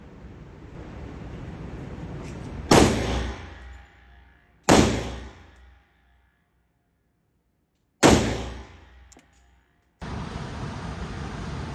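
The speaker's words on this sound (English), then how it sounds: "So here I switched over to do some offhand shooting." Three shots from an AK-74 rifle fired offhand at a slow pace at a 25-yard range, each a loud, sharp report whose echo fades out. Long gaps separate the shots, and there is windy outdoor noise at the start and end.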